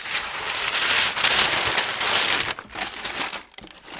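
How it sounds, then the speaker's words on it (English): Paper being crumpled and crinkled up close, loud and continuous for about two and a half seconds, then quieter rustling in short bursts with brief pauses. "Sorry for the loud paper noise."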